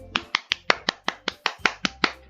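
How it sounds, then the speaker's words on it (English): Applause sound effect in the video game Doki Doki Literature Club Plus: eleven sharp, separate claps at an even quick pace, close and clean with no voices. "I'm the first to start applauding"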